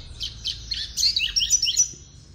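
A capped seedeater (papa-capim) sings a run of bright, high chirps and twittering phrases, close and clear over a low background hum.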